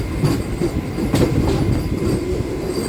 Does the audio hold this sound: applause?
no